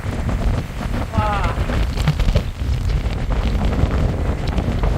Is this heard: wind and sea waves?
yes